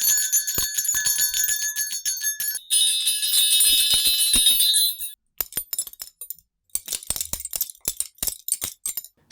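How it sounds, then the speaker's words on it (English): Layered tinkly metal bells and belt buckles for a magic sound effect, heard as bright jingling and clinking: dense ringing shimmer for about five seconds, then scattered sharp clinks and rattles, close and alone. "I recorded some smaller, more tinkly metal bits like bells and belt buckles, and layered them up"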